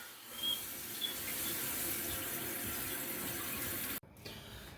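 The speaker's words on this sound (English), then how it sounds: "And we'll turn water on." Water rushes steadily into a toilet after its supply line is turned on during an ABS toilet flange replacement, a close, even hiss that cuts off abruptly near the end.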